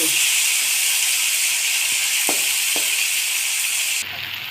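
Chopped tomatoes fry in a pan for dum aloo, giving a steady, close sizzling hiss with a couple of faint soft clicks. The sizzle drops sharply quieter near the end.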